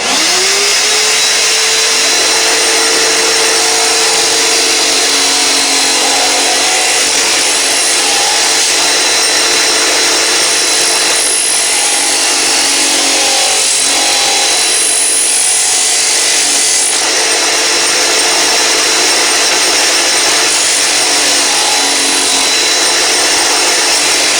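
A vacuum cleaner whirs loudly and continuously, its pitch rising as it starts, then holding a steady high drone throughout.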